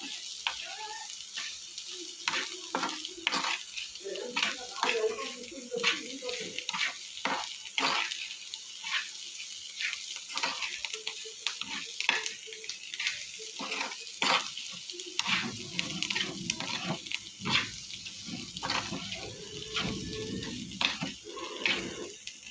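Egg porutu frying and being stirred in a pan as coriander and curry leaves go in, with a steady sizzle under repeated scraping stirs and a louder, fuller frying hiss in the final stretch; no talking.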